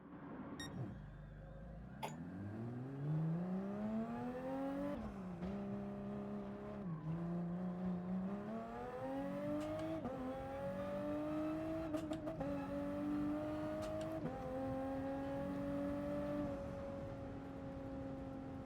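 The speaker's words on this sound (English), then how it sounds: "I like the sound of this Group 4 Supra." Toyota Supra Group 4 race car in Gran Turismo Sport, its engine climbing through gears with repeated rising revs and brief dips at each shift, loud and continuous, with no voices.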